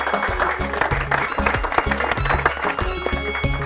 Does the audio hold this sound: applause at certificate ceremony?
yes